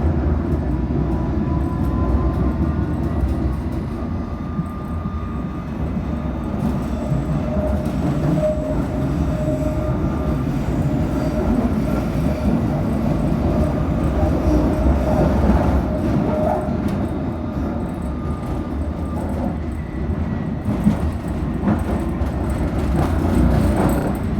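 A London Underground S Stock train runs steadily on the line near Aldgate and Tower Hill, with a continuous low rumble and the rolling noise of the cars, faint squeals rising now and then, close and loud throughout with no talk.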